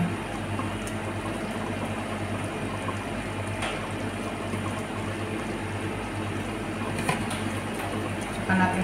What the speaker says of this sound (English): Ayan, gumulo na siya guys.